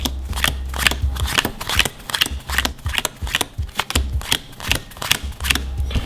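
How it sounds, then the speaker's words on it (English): Playing cards are drawn from the bottom of a deck in a bottom deal, giving a steady run of crisp close-up snaps and slides with a soft low rumble underneath. "So pulling these cards out."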